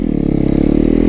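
A torquey beginner motorcycle engine revs with a loud, close, throbbing pulse, rising slightly in pitch over a short burst.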